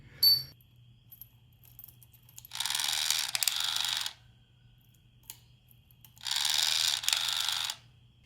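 Two short bursts of ratcheting, close by and separated by a quiet gap, as nuts are snugged down on the YPVS servo of a 1989 Yamaha DT200R motorcycle.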